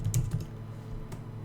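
Several quick keystrokes tap on a computer keyboard in a short, quiet burst, close by, followed by a single later click.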